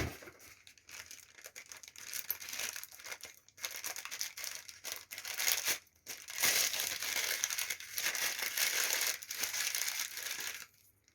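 Crinkly plastic packaging crackles and crumples loudly as a package holding a tulip bulb is opened, with dense bursts of rustling and tearing that pause briefly around the middle before continuing.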